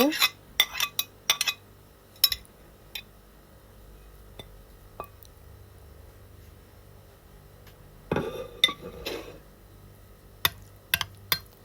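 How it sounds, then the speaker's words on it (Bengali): Chopped cucumber, leaves and egg stirred into a creamy sauce in a bowl, with scattered clinks of a utensil against the dish, quiet gaps between, and a louder clattering flurry near the end. "এখন আমি কেটে রাখা সব কিছু দিয়ে এই সচের সাথে ভালোভাবে মিশিয়ে নিব"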